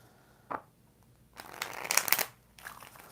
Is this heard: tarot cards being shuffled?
yes